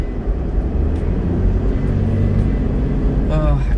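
The engine of a Toyota Land Cruiser VX80 built for overlanding drones and rumbles steadily as the vehicle drives, with someone talking over the engine noise.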